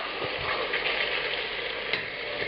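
Tomato sauce scraped up from a caramelized, browned pan bottom for puttanesca, sizzling loudly and steadily, with occasional scraping scuffs and a brief sharp clink near the end.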